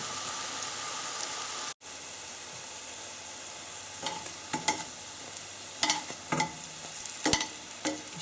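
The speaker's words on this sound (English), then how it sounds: "I'm just going to turn those on their sides now so they cook on their sides." Low protein vegetable sausages sizzle and fry in a pan, a steady soft crackle broken by a brief gap and then clusters of louder spits and pops from about four seconds on, close by with no talking.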